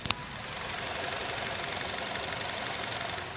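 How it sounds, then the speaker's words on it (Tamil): The petrol engine of an Ertiga idles under an open hood, a low steady hum that stays even and fairly quiet throughout, with one sharp tap at the very beginning. "இன்ஜினோட நைஸாக லைவாக கேளுங்க எப்படி இருக்குன்னு"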